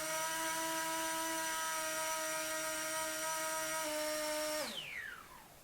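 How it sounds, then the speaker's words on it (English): An electric motor spins at about 5,000 RPM on a DIY Arduino thrust test stand, giving a steady high whine with a slight wavering pitch that then drops sharply as the motor spins down. "you might have been able to tell that the sound of the motor was just sort of a little bit up and down"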